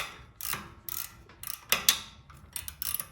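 A ratchet wrench turns the back nut on a custom transmission crossmember of a Jeep YJ, giving a series of close, crisp ratcheting clicks in short uneven bursts.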